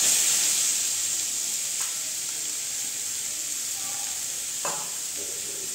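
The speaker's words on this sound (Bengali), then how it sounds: "ঘিটা এখন গরম হবে, তারপরে দিয়ে দিব আমি গাজর।" Grated carrots fry in hot ghee as sweet carrot halwa is made, giving a steady, moderately loud hiss with a few faint clinks and no speech.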